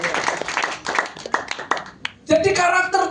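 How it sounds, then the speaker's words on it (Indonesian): Church congregation clapping hands in worship, irregular sharp claps under a preacher's voice, ending in a short louder burst of applause. "Beri tepuk tangan dulu bagi Tuhan"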